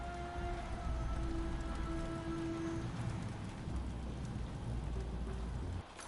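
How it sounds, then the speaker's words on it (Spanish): Heavy rain pours down without pause in the video game Stories: The Path of Destinies, a dense, loud downpour with low rumbling underneath and a few faint tonal notes. "Está diluviando, hermano."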